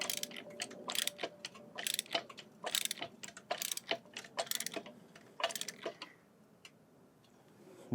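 Ratchet wrench cranking to tighten a front suspension bolt on a BMW E46, a close run of sharp repeated clicks in uneven bursts that fades to quiet near the end.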